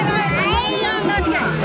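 Dense crowd at a busy Hindu temple entrance, a steady babble of many voices close around, with one person talking clearly over the hubbub.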